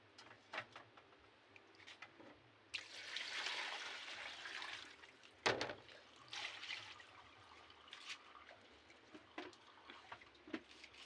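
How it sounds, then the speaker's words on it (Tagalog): Tap water runs and splashes at the sink during dishwashing, a quiet fluctuating gush with clinks and knocks of plates scattered throughout, no talk heard. "Huhugas na rin ako ng plato."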